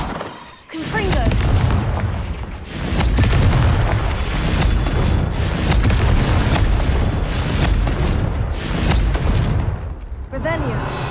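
Loud Confringo fire spell explosions in Hogwarts Legacy, a heavy boom followed by sustained roaring, crackling blasts and rumbling game sound, with a voice talking over parts of it.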